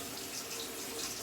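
Tap water runs steadily into a pets' water bowl, a continuous close splashing hiss with no voices over it.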